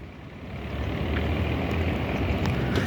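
Heavy vehicles grind slowly through deep mud on an unfinished section of road, a steady low engine rumble that swells as they come nearer, with faint higher clanks.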